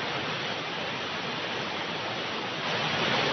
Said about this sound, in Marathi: जिल्ह्यातील कचनेर येथील धारेश्वर धबधबा प्रवाहित झालाय।